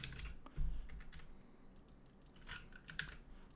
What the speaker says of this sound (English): So let's go ahead and type something out here.